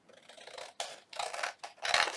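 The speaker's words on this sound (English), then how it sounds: "So I'm just going to trim around my envelope" Scissors trimming paper around an envelope, with four quick crisp snipping cuts in close succession, near and clear with no talk over them.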